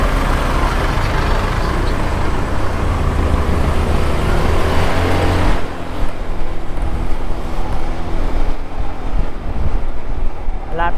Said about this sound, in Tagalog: Nagbacking pa ng jeep dito guys.